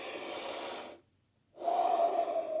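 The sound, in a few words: a single deep breath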